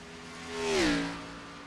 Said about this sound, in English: we're watching NASCAR, or, NASCAR stock cars going around